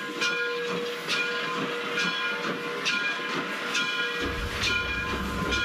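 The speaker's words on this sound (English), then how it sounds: "just started up its train and just blew its whistle, and now it's ringing its bell" The Frisco 1630 steam locomotive rings its bell in steady, evenly spaced strokes over a constant hiss of steam, heard from a moderate distance with a low rumble joining near the end.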